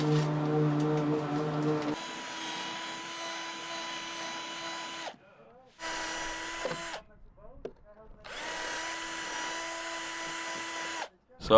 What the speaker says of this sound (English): So I've just been drilling out the holes on every single window